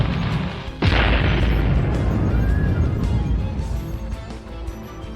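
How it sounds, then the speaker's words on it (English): A fireball explosion effect in an audio drama bursts in suddenly with a loud, booming blast, then its rumbling tail slowly decays over several seconds. "Double G shot him point blank with a fireball"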